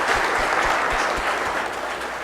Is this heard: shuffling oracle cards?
no